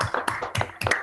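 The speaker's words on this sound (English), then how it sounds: "unmute again for another round of applause" A few participants of an online academic talk clap over their microphones, producing several close, distinct bursts of hand claps in an uneven rhythm.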